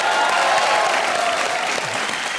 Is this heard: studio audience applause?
yes